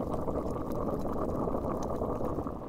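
Steady bubbling and churning of water at a rolling boil in a pot ready for spaghetti, continuous and close with no voices.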